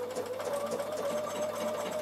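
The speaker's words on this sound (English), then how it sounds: "So now I'm going to do the blanket stitch." A Bernina sewing machine runs a triple blanket stitch at a steady, slow, even hum, with a continuous motor whir and no talking.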